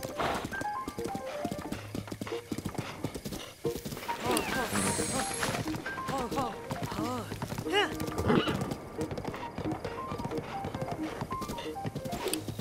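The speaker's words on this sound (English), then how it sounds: "The horses." Horses in the video game Zelda: Breath of the Wild whinny repeatedly while hooves clip-clop in steady rhythm, with a person talking over them.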